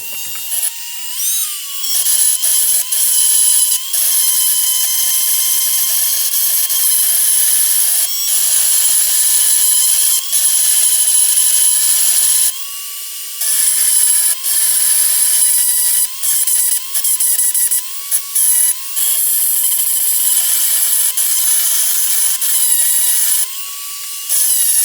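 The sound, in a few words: rotary tool grinding and sanding Piaggio moped crankshaft inlet timing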